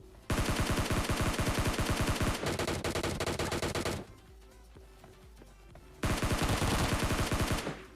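Rapid automatic gunfire from the mobile battle-royale game PUBG Mobile Lite, loud dense bursts that pause briefly with a quieter stretch in the middle before another burst resumes, with no talking.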